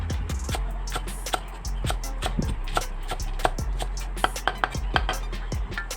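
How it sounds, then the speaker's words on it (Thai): Rapid knife strokes chopping fresh spring onions and coriander against a cutting board, sharp irregular taps in quick bursts, close and fairly loud with no talking. "เอาต้นหอมผักชีมาใส่นะครับ อ่าเอามาหั่นซอยสดๆเนี่ยครับผม"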